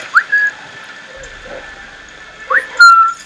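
Short whistling calls in the video game Assassin's Creed Syndicate: two brief rising whistle pairs, one at the start and one near the end, clear and close over a quiet background.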